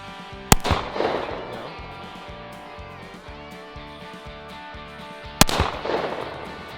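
Two sharp, loud gunshots at a farm, about five seconds apart, each followed by a short echoing decay over a steady low background hum.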